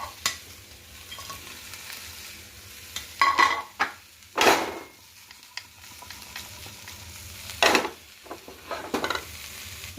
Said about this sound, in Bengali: এবার চিকেনগুলোও দিয়ে দেবো।